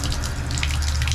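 Hot water gushes steadily from a shower tap in an RV, a close, constant rushing hiss with no break.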